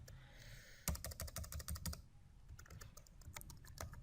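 Rapid clusters of keystrokes rattle on a computer keyboard at close range, with brief pauses between bursts and no talking.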